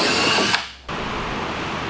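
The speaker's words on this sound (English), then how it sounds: "then drill all your holes" A power drill whirs steadily, cuts out briefly, then spins up again and keeps running close by.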